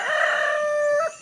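A rooster on a rural province farm crows once, a loud, close, drawn-out call that holds steady and then breaks off abruptly.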